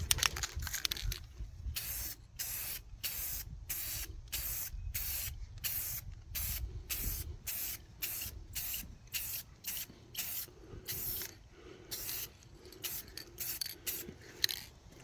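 An aerosol can sprays clear coat onto a VW Beetle headlight lens in rapid short bursts, a close, hissing, rhythmic series of pulses with brief gaps and no voices.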